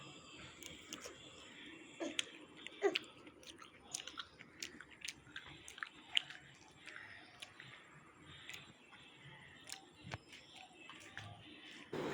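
A person biting into and chewing food at home, close moist crunching and smacking bites scattered irregularly over quiet background with faint murmuring.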